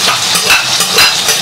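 Homemade hot pot base is stir-fried in hot oil with scallion and garlic, sizzling loudly up close while a spatula scrapes and stirs in a steady rhythm.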